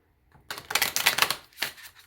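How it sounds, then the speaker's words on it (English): A trimmed and edged Black Moon Astrology tarot deck being shuffled, producing a quick close riffle of rapid card flutters, then a short second burst, with no talking. "I'm gonna go ahead and shuffle the cards"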